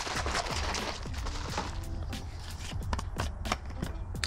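A shaker bottle of powdered drink mix and water is shaken hard, giving quick repeated rattling knocks and sloshing in an uneven rhythm, close and moderately loud.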